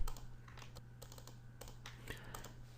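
Quick bursts of keystrokes tap out a value on a computer keyboard, close and fairly quiet, in uneven clusters over a low steady electrical hum.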